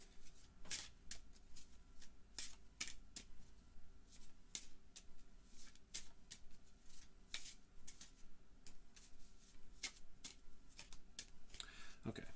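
Cards for the board game Unsettled are shuffled by hand in a quiet room, a rapid series of soft riffling bursts and taps repeating for several seconds.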